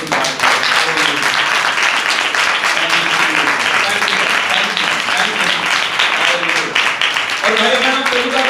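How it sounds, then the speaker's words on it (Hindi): A church congregation breaks into loud, sustained applause during a Hindi sermon, dense clapping filling the room throughout, with voices calling out over it. "ताली बजा के प्रभु की बात करें।"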